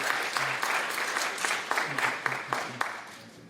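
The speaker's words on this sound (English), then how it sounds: "Please a round of applause for them." An audience at a school board candidate forum applauds with steady, moderate clapping that continues throughout, set back in the room and fairly soft.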